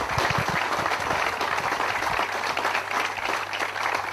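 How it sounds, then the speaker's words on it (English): A crowd applauds at the Westmeath GAA senior football final: steady, unbroken clapping fills the whole few seconds at a moderate level, with no voices over it. "you deserve a massive round of applause"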